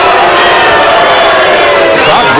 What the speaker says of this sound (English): booing Guerrero, I believe, for that late hit.